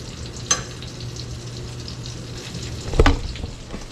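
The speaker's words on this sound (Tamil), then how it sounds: "நல்ல ஃப்ரை ஆகிட்டுருக்குது" Breaded chicken parmesan frying in a pan, a steady close sizzle throughout with a couple of brief louder spatters and clatters, no voices.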